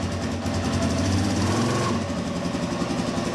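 A Suzuki DRZ400S motorcycle engine, fitted with a Magura clutch and a Rekluse EXP 3.0 auto-clutch, revs in first gear with a dense, steady, close mechanical drone and no voices.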